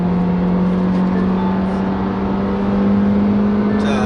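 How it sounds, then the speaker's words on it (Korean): A Hyundai Sonata New Rise engine holds a high, steady rev near its redline, a loud smooth drone with a strong constant hum heard from inside the car. "엔진이 레드존에 가까이 근접을 해도 엔진 사운드가 그렇게 거슬리게 들리지 않습니다"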